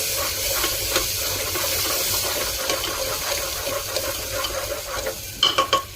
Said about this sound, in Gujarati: આ ગ્રેવીને કુકરમાં નાખ્યા પછી થોડી વાર માટે હલાવી દેવાની.